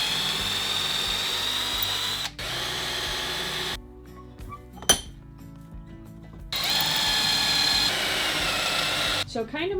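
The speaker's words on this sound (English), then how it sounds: "we're going to put a couple screws in here so that we can screw it, whatever, into the next one" A power drill drives screws through a Kreg pocket-hole jig into 8-foot boards outdoors, with loud sustained motor whine in bursts broken by short pauses and a sharp click.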